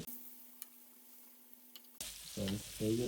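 Kebabs sizzling in a frying pan, near and fairly quiet: a faint steady hiss at first, then a louder broadband sizzle that swells in a few bursts toward the end, suggesting the pan being stirred or moved.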